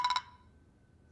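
Three quick, bright electronic beeps in a row, like phone keypad tones, followed by a low quiet hum.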